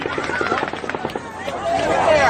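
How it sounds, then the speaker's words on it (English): Rapid volley of automatic gunfire at the Las Vegas mass shooting, a string of sharp evenly spaced cracks over frantic crowd noise and shouting voices. "At 10:10 and 59 seconds, the sixth volley of automatic gunfire begins."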